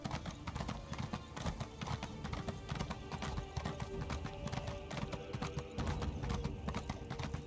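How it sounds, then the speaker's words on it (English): Horse hooves clip-clop in a fast, continuous rhythm while riding in Elder Scrolls Online, layered over dense game ambience and music, with a faint voice in the mix. "Oh, now I can ride the horse."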